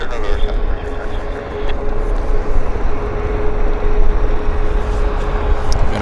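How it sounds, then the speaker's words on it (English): A WestJet airliner taxis on a wet runway at Vancouver airport (YVR), its engine roar a steady broad rumble with a faint sustained whine, fairly loud and continuous throughout. "Got a WestJet taxiing out, of course, right here."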